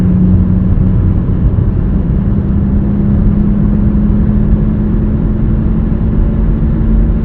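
Cabin of a 2020 Nissan Rogue accelerating on a highway, with loud steady road and wind roar and a low droning hum consistent with a worn rear wheel bearing, continuous throughout.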